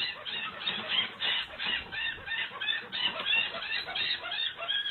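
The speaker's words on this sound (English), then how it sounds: "The audio of that mouse screaming." A recording of a mouse screaming, played back, gives rapid shrill squeals in a continuous pulsing series, fairly faint and tinny, with no talk over it.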